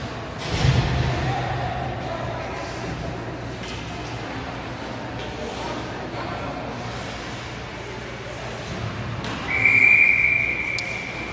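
Referee's whistle at a ringette game between the Nepean North Stars and West Ottawa Predators, a sustained shrill blast near the end above steady arena crowd noise and commentary.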